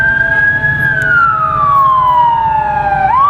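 A police car siren wails close and loud, a single long tone sliding slowly downward before sweeping back up, over a steady road rumble.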